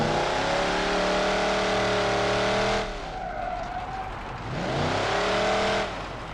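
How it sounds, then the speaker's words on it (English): A muscle car mod in the BeamNG.drive racing game revs hard, its loud engine roaring high, dropping briefly to a lower idle-like rumble, then surging back up in a second sustained rev before easing off. "This thing is really fast and you do burnouts with it, and the engine sounds fantastic."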